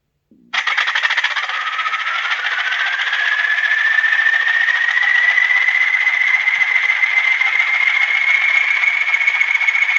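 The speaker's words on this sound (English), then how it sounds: "I could hear that anywhere and I would know it was a class 20." A model Class 20 diesel locomotive runs with its sound unit on: a steady, rattling engine drone starts abruptly and holds for about nine seconds, its pitch climbing slowly as it revs, with no one talking.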